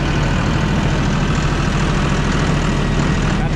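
Kubota M6060 tractor engine idling steadily and loudly nearby, a continuous low rumble with no breaks, on a farm before hauling hay.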